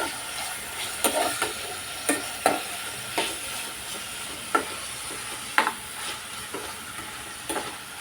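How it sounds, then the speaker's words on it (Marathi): Vegetables including capsicum sauté in a pan for a tomato-sauce pasta, giving a constant gentle sizzle broken by irregular scraping clicks as a spoon stirs them, close and moderately loud. "भाज्या चांगल्या आपण परतून घेऊया."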